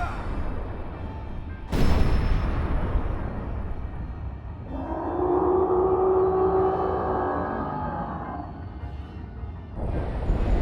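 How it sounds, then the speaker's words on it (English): Cannon fires in The Legend of Zelda: Breath of the Wild with one sharp loud boom, followed by a rumbling, whooshing roar and a second impact near the end, under game ambience. "we are gonna be using the cannon to hit something"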